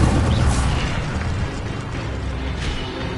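A fire spell in Hogwarts Legacy, cast as Incendio, erupting in a dense, roaring burst of flame that holds loud and steady for about three seconds with a slight swell near the end.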